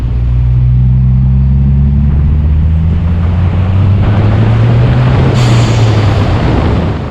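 A Ford Escort Cosworth drives in warm weather with the air conditioning on, its loud, steady engine drone and low road rumble filling the cabin throughout, rising slightly in pitch as it goes.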